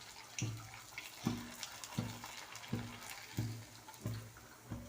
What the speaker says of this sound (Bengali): দেখেন কত দ্রুত হয়ে যায় পিঠা ভাজা।